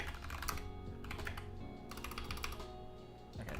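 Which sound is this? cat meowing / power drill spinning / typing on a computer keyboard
typing on a computer keyboard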